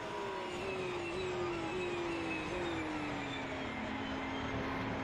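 A GT3 race car engine in the racing game rFactor 2 holds a high, steady whine, its pitch sliding slightly downward as it cruises at around 240 km/h, loud and continuous.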